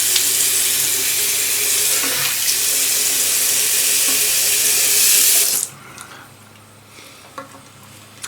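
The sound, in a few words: tap water running into a sink for face washing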